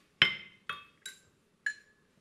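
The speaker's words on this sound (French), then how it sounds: "le marteau du forgeron tape" Four ringing metallic strikes of a blacksmith's hammer, each a sharp clink with a brief bright decay, spaced unevenly and heard alone in near silence.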